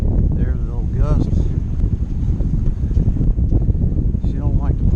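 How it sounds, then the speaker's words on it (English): Wind gusting around a small sailboat under way without autopilot, a steady broadband rush across the whole stretch with someone speaking briefly over it. "You know, there's a little gust."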